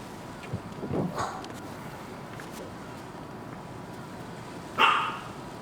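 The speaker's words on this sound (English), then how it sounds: "I hear an angry dog." In a Metal Gear Solid 2 game scene, an angry dog gives two separated barks, one soft and one louder, over a steady ambient hiss of wind and water.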